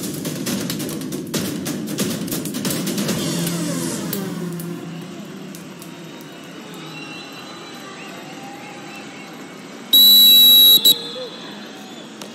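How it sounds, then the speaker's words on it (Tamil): A referee's whistle starts a Yuva Kabaddi Winter Edition match between Palani Tuskers and Murthal Magnets. One sharp, loud, shrill blast near the end cuts through a low rumbling background of arena noise and murmuring. "முதல் விசில், ஆட்டத்தோட முதல் விசில் வந்துருச்சு."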